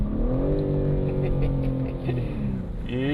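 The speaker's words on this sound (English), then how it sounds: "It feels like it wants to be constantly singing, it wants to be revving" A new BMW M3 engine revs hard on the move, a loud, sustained rising and falling engine note heard from inside the car with no talking.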